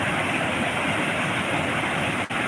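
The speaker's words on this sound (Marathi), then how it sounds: "हे वाहत पाणी आपण पाहू शकता" Steady, loud rush of water pouring continuously over a weir, a broad roaring wash with no voices.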